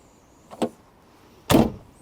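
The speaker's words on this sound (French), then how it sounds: "Il faut appuyer ici et prendre la poignée comme ça." A Fiat Barchetta door is opened by pressing and pulling its handle: a small click first, then a louder clunk as the latch releases, both close and crisp.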